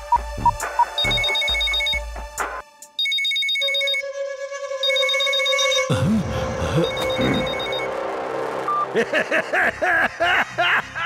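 An electronic telephone ringtone from an animated cartoon plays in bright, repeating tonal bursts during a call, then gives way to a louder, busier stretch of mixed sound near the end.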